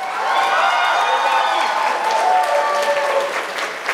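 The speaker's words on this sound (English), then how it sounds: "can we please get a round of applause for how beautiful Jess looks tonight" Wedding guests clap and cheer for Jess, a lively burst of applause with excited voices and whoops on top, sustained at close range.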